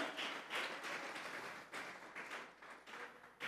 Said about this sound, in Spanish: Dele fuertes palmas al Dios de la gloria